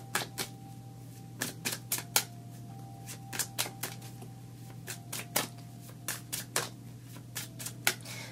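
Tarot cards shuffled and picked by hand, a run of quick light papery taps and flicks in an irregular rhythm, close and fairly quiet over a steady low electrical hum.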